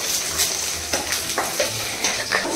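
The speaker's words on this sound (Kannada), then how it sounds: "ಈ ಕಡೆಯಿಂದ ಇದನ್ನು ಚೆನ್ನಾಗಿ ಮಿಕ್ಸ್ ಮಾಡ್ಕೊಳ್ಬೇಕು." Food browns in a hot cooking pan while being stirred and mixed. Steady close sizzling runs throughout, with rhythmic scraping strokes of a utensil against the pan and no talking.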